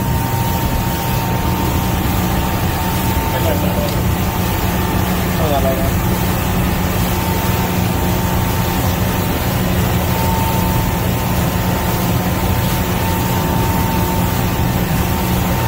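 A 2008 Pro-Line 23 Express boat engine runs steadily at high RPM, around 3,500 to 4,000, producing a loud, continuous drone with water and wind noise throughout and no break in the roar.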